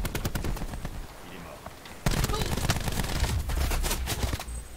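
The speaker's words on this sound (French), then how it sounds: "il y a des tirs vers là bas" Sustained automatic gunfire in Call of Duty: Black Ops 4 multiplayer, with dense, loud bursts of rapid shots that keep going, growing heavier in the second half, and no speech over them.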